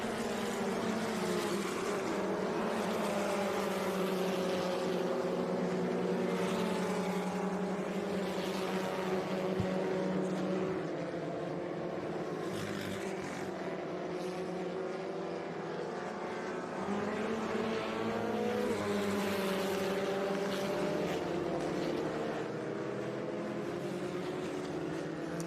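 Vintage race cars at the Monterey Reunion at Laguna Seca stream down the corkscrew, several engines blending into a continuous, loud roar whose pitch rises and falls as the cars pass and shift.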